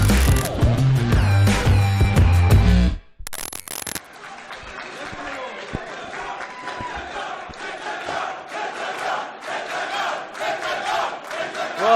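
A wrestling event crowd erupts in loud cheering and chanting after a title-retaining finish, starting as a roaring burst, then settling into a sustained murmur of chatter and scattered shouts.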